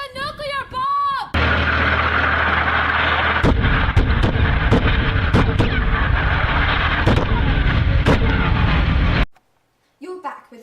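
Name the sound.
nuclear bomb explosion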